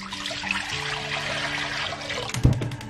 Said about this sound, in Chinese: 然后锅中我们加入清水